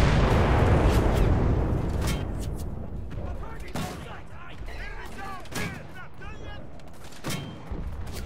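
Loud explosions and gunfire roar through a battle in the World War II shooter game Enlisted, with a heavy blast at the start followed by scattered sharp shots and rumbling booms, while faint voices murmur underneath.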